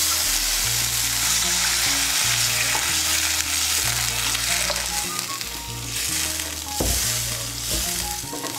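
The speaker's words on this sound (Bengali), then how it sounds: "আমি এর মধ্যে 1 কাপ গরম জল দিচ্ছি।" A cup of hot water goes into spiced potatoes frying in a pan for kofta curry, a loud close sizzle with stirring scrapes over a steady tonal hum, no talk.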